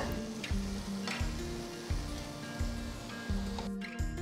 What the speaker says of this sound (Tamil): எல்லாம் சேர்த்து ஒரு 2-3 நிமிஷத்துக்கு நல்லா வதங்கி வர வரைக்கும் வதக்கிக்கோங்க.